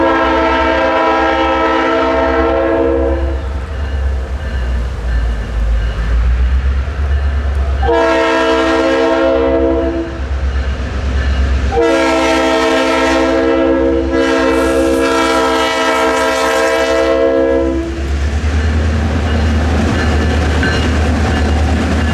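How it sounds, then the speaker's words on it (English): A freight train led by a long-hood Ford locomotive passes a crossing, its loud multi-tone horn blaring in several long blasts over the constant rumble and clatter of the rail cars, close by and without talk. "I was able to nab a very nice shot of the train"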